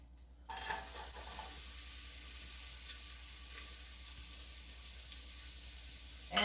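Onions sizzling in melted butter in a pot, a soft steady frying hiss that starts after a brief quiet moment and holds evenly, with a small clatter at the end.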